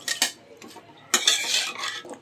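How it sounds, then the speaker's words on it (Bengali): A spatula scrapes and clinks against a pan while chunks of radish and potato are stirred and fried, in two bursts of busy metallic scraping separated by a short quieter pause. "মূলা আর আলু ভালো করে কষিয়ে নেব।"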